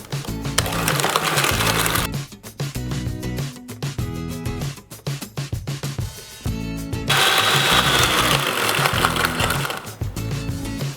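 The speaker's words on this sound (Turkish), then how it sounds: "Şimdi hepsini çırpıyorum." An electric hand mixer whirs loudly while whisking a sugar mixture for tahini and grape molasses oat cookies, buzzing in bursts with short stops and rattling changes in between.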